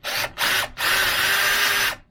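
A power drill fitted with a countersink bit bores into a narrowboat subfloor: two short close bursts, then a longer steady whine of about a second and a half, with no talk.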